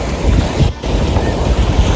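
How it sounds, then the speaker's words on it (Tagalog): Strong ocean waves surge at Puka Beach on Boracay, a loud, continuous roar of surf mixed with heavy wind buffeting the microphone. "Malakas din yung alon dito."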